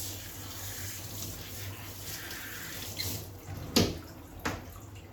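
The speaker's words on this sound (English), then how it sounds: "I'm just going to rinse that water just over the top of the head, just to wet" Water from a tap or hose rinsing over the top of a dog's head during grooming, a steady running splash close by, with a couple of sharper splashes and squeaks near the end and no speech.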